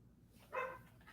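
One short dog bark sounds faintly in the distance over a low background hum.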